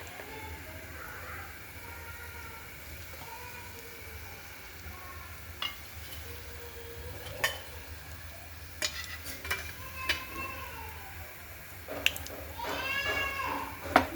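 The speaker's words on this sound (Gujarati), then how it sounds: "રાઈ ચટકી જવાય." Faint crackling and popping of mustard seeds spluttering in hot oil with cumin and asafoetida, a few sharp pops and scattered clinks from a pan, over a low steady background hum and occasional voice.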